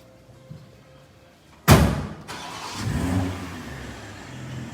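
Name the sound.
2021 BMW 4 Series engine starting up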